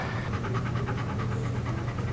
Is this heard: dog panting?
yes